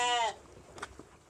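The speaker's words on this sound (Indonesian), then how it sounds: "Kalau domba ya biasa dia berontak" A sheep being milked by hand lets out one short, loud bleat at the start, followed by quiet handling noises and faint rustling.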